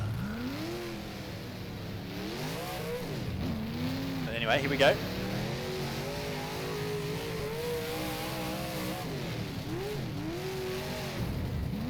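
A race car engine in the video game rFactor, a 358 Modified at Devils Bowl, revs and shifts pitch steadily beneath someone talking, with a brief squeal partway through, fairly quiet overall.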